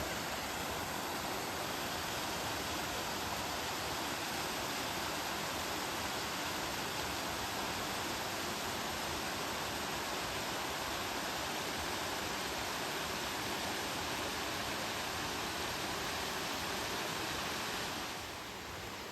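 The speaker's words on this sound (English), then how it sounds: "The old waterfall there." An old waterfall on a rough countryside walk near a stone bridge, heard as a continuous broadband rush of falling water, steady and fairly loud with no talk over it.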